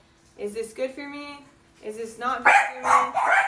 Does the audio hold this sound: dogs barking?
yes